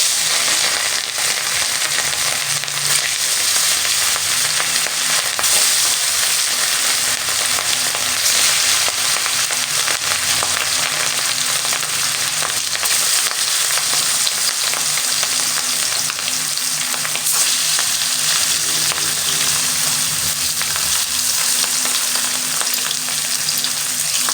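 Pieces of rohu fish fry in hot oil, a dense, steady crackling sizzle that holds close and loud throughout with small spits and pops, no voices present.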